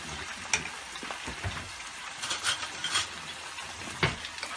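Spinach and cabbage sizzle in a hot pan, with several scraping stirs and a few light utensil knocks over a steady frying hiss. Close and moderately loud, with no talking.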